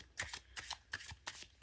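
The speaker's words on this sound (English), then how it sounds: "I'm moving off camera to do the shuffling" Tarot cards being shuffled by hand, a quick series of crisp riffling flicks and soft slaps in uneven bursts, close and fairly quiet, with no talk.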